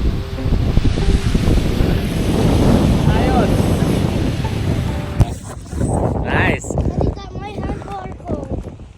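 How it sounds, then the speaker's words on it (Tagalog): Gusty wind buffets the microphone beside a clear river, blustering loudly in surges and then easing, with water noise beneath and people talking partway through. "Medyo mahangin nga lang. Pabugso-bugso yung lakas."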